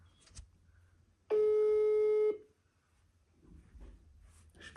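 A phone rings out on a call, a single steady electronic tone lasting about a second, loud against a quiet room with faint shuffling before and after.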